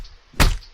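A single heavy punch sound effect lands as one sharp, loud thwack with a short thudding tail, set against a quiet background.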